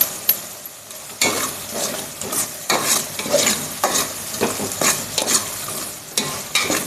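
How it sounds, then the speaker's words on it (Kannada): Kushka masala is stirred and mixed in a hot pan, with a steady sizzle of frying broken by repeated scraping strokes of the spoon, close and fairly loud, with no talk. "ಇವಾಗ ಇದನ್ನು ಚೆನ್ನಾಗಿ ಮಿಕ್ಸ್ ಮಾಡ್ಕೊಂಡಿದ್ದೀನಿ."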